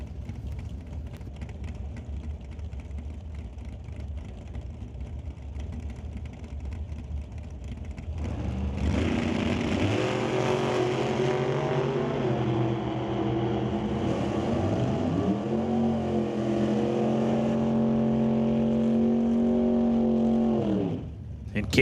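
A dragster launches at a drag strip, a loud sustained engine roar rising in pitch after a quieter idling stretch, with an announcer talking over it.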